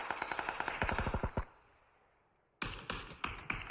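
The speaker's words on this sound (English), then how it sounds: "However, Prince has gotten some shots on Power AU." Gunfire in the battle royale game PUBG during competitive scrims: a rapid burst of automatic shots, a pause, then several more sharp bursts, loud and close with no talk over them.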